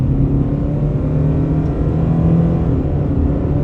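A 2024 Subaru Crosstrek Premium engine drones and revs steadily on a highway at about one-third throttle, heard from inside, a loud continuous low rumble with road noise and no talking.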